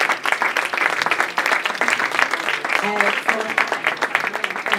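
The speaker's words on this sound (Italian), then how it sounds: "ancora un grande applauso per la presidente Rosanna De Nictoris" Sustained applause from an audience at a legal awards ceremony honoring a magistrate, a dense even clatter of many hands over several seconds, with a voice briefly speaking over it.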